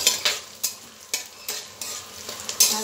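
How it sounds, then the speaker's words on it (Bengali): Bay leaf, black pepper and whole garam masala sizzle in hot oil for chicken biryani, a soft frying crackle broken by regular scraping strokes of a spoon stirring the pan, close up with no talk. "তেজপাতা দিলাম, গোলমরিচ এবং গোটা গরম মশলা ফোড়ন দিলাম"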